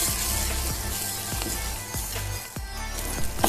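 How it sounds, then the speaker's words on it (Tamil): Masala frying in hot oil for a Punjabi chicken gravy, a steady soft sizzle with a few scrapes of stirring, heard close and on its own with no talking. "பச்சை வாசனை போய் எண்ணெய் பிரிஞ்சு வர அளவுக்கு நம்ம வந்து ஃப்ரை பண்ணணும்"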